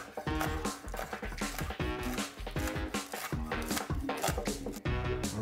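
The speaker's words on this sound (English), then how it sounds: "So I'm gonna chop the bacon." A knife chopping roasted bacon on a cutting board, a quick run of sharp rhythmic knocks close up with short pauses, under music.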